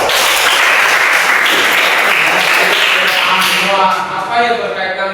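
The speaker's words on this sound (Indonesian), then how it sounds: "Tepuk tangan." An audience bursts into loud, dense clapping at a lecture-style performance assessment, continuous and close for several seconds before thinning slightly toward the end.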